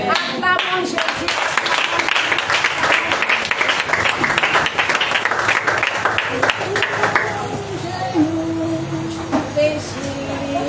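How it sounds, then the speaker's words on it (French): Church congregation clapping and applauding in worship, dense sustained applause that fades after several seconds into sparser claps with voices and singing-like tones underneath. "Acclamons Jésus."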